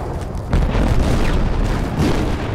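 Mortar explosions in the video game Project Reality, a dense rumbling boom starting about half a second in and sustaining loud low-end blasts throughout, with a second swell near the end.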